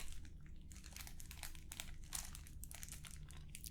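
A plastic bag crinkles in irregular bursts of crackling as iron filings move toward a magnet, close and fairly quiet, over a low steady hum.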